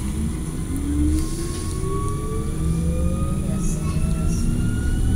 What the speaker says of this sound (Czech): A můžete poslouchat, jak rychle se rozjíždíme.